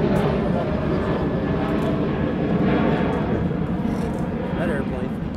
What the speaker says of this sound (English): That airplane.